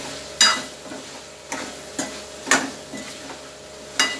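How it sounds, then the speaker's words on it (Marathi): Cooked mutton is stir-fried in a spice masala, a steady low sizzle broken by sharp scraping strokes of a spatula against the pan, about six of them spaced unevenly, with no talking. "ह्याच्यामध्ये हे शिजलेलं मटण घालायचं"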